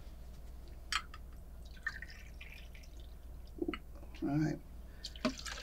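Patrón tequila poured in two shots from a mini bottle for a skinny margarita, a short liquid trickle and splash near the end amid faint drips and light clinks, with a brief spoken word.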